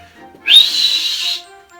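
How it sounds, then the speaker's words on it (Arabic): A single clear, high whistle sounds for about a second, sharp at the onset and then holding a steady tone before stopping, alone in a quiet room. "صفارة"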